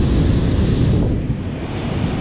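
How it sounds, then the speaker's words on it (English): Big surf churning onto a beach after a hurricane, a loud continuous roar of breaking waves with heavy wind buffeting the microphone throughout. "Definitely got some big waves today, so it's churning it up."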